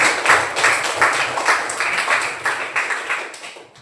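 Children in a classroom clap their hands together in a steady, fairly even rhythm, close and loud, with the claps running on for several seconds.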